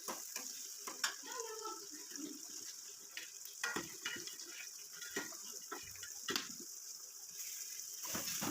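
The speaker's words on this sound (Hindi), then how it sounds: "दूसरी साइड में चने छोंक रही थी" Black chickpeas sizzle and crackle in hot oil in a home kitchen, a steady frying hiss broken by sharp spits and occasional stirring knocks, close and moderately loud with no talking.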